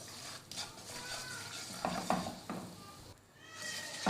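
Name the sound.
flour (maida) being roasted and stirred in oil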